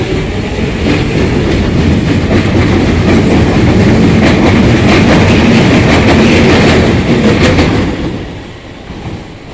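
A crowded London Underground Jubilee line train passes at Canning Town, a loud, steady rumble with rhythmic clickety-clack of wheels over rail joints that holds for most of the span, then fades as the train moves off.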